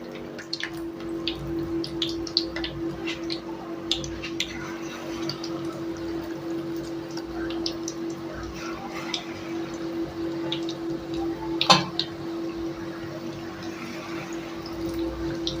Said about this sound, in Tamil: இப்போ எண்ணெய் காஞ்சிருச்சு, ஒரு சின்ன வெங்காயம் எடுத்து போட்டுக்கலாம்.